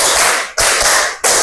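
Loud, close hand claps from a classroom counting exercise, three sharp bursts evenly spaced about two-thirds of a second apart, with no voices.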